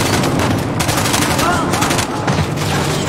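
Rapid bursts of automatic gunfire from ambushing soldiers in Uncharted The Lost Legacy, loud and sustained with overlapping shots and booms, while a player talks over the firefight.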